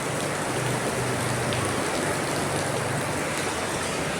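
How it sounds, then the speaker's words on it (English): Steady rain falls continuously on a rainy day, an even, dense hiss of drops striking surfaces close by, with no voices or other sounds. "It's a raining day,"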